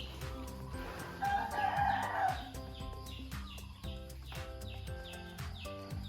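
A rooster crows once at moderate distance, a drawn-out cock-a-doodle-doo standing out over a background of rhythmic clattering and low rumbling.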